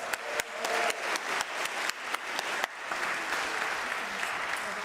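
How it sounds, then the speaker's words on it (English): A church congregation applauds a community choir at an All Music Sunday service, many hands clapping in a full, steady burst with a few louder claps standing out near the start before the applause softens and fades. "Give them a round of applause."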